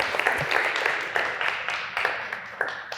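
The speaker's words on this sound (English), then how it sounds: "give yourselves a round of applause" A small audience at a financial wellness evening on budgeting and saving applauds itself, a steady patter of clapping from many hands running unbroken throughout, fairly close and moderately loud.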